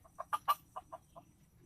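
A backyard chicken clucks nearby in a quick run of about seven short, sharp clucks, loudest at the start and tapering off, with no voices over them.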